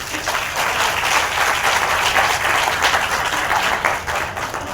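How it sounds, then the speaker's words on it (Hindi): At a comic poetry recital in Indore, a large audience breaks into loud, vigorous applause, a thick continuous roar of many hands that holds steady for nearly five seconds before easing off slightly at the end. "एक बार जोरदार ताली बजा।"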